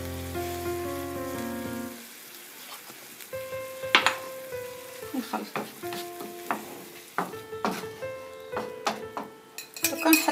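A spoon stirs tomato paste sauce with sugar and water in a pan for a pizza topping: scraping, clinking strokes come in irregular bursts after a brief sustained tone at the start, with no talk.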